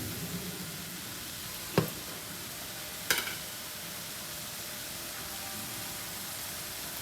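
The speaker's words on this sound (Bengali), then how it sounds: "এখন আমি এর মধ্যে তেল দিয়ে দিব" Oil hitting a pan of cooked vegetable mash sets off a steady, even hiss of sizzling, broken by two sharp utensil clicks, then settling into a constant soft frying sound.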